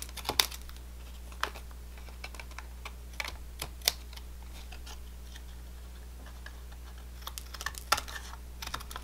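Paper snips clip a decorated card panel flush at the edge during card making, heard as a scattering of sharp, quiet snipping ticks in irregular bursts over a steady low hum, with no talk.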